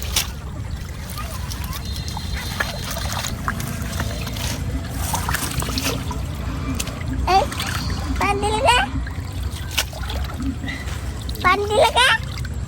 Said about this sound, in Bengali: পানি ছিটে গেছে।